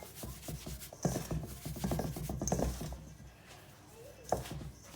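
Butter being rubbed into flour by hand for shortbread biscuits, giving a soft, close, continuous rustling and rubbing with small irregular bursts.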